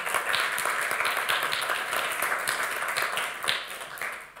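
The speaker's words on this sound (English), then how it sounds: "round of applause" A round of applause at a conference opening session, with many hands clapping in a dense, steady patter that holds throughout, moderately loud and filling the room.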